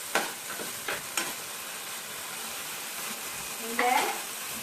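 Vegetables and spices with oyster sauce are stirred and sizzle in a frying pan, giving a steady soft hiss broken by a few scraping strokes of the utensil.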